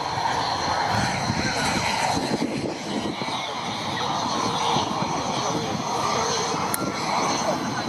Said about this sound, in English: Red 8 has now touched down